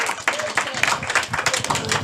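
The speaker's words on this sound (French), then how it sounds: "Applaudissez pour lui, s'il vous plaît." A church congregation applauds with dense, steady clapping from many hands close by, with a voice speaking over it.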